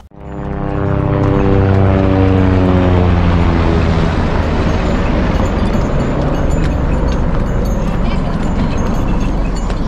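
A helicopter passes low overhead on the mountain route to Kedarnath, a loud roaring rotor and engine drone whose pitch falls as it goes by, then settles into a broad, steady rumble.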